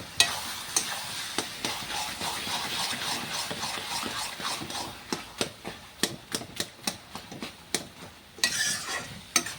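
Chopped coriander leaves being stirred into a curry in a pan: a gentle simmering sizzle with a series of sharp, evenly spaced scraping and tapping strokes of a spoon against the pan, close by.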